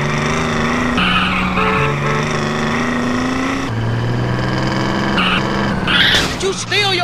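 A car is driven in Grand Theft Auto: San Andreas, its engine droning steadily with rising gear tones and a brief tire squeal near the end, while voices talk over it.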